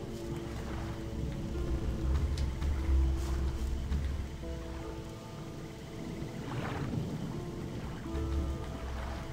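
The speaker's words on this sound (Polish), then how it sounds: "Ale deszcz pada." Steady rain hiss in the video game Gothic fills the scene with a low rumbling undertone, continuous throughout, with occasional brief louder swells and splashes.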